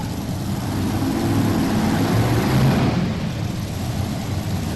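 Modified pulling tractor sitting at the line at a farm-machinery tractor pull, a loud steady heavy engine roar holding throughout with no speech.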